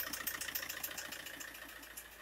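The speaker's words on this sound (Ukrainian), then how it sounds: "Так, завели ми наш мотор, все поставили, під'єднали" A car engine idles steadily just after being started, a continuous close mechanical hum with a fast, even pulsing rhythm and no voices.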